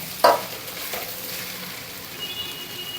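Okra (bhindi) frying in a pan for a bhindi fry, with a sharp scrape of the spoon at the start and then a steady, faint sizzle of frying as it is stirred.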